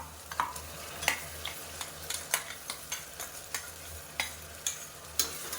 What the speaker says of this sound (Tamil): சேர்த்துட்டு பச்சை வாசனை போகிற அளவுக்கு வதக்கி விட்டுக்கலாம்